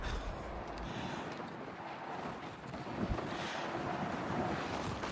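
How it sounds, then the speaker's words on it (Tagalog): Strong wind roars steadily across the microphone on a muddy shore during a sea clam hunt, a loud continuous rush with gusty buffeting and no voices. "Dito, lakas ang hangin."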